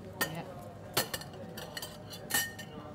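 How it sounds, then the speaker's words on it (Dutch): Plates and cutlery are set down on a table for a Somali home meal, giving three sharp clinks and clatters spread over a few seconds, close and moderately loud, against a quiet room. "Zo, komt Hani aan met de borden en het bestek."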